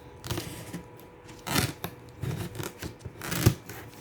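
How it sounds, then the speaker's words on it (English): Scissors snip through product packaging in a few short, crisp cutting bursts with rustling between them, close and fairly quiet, no voices. "I will use scissors on this part."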